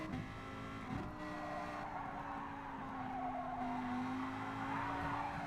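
A race car in a racing game slides its rear out on a track near Lago Maggiore, with a steady engine drone, a rising pitch and a skidding tire squeal throughout.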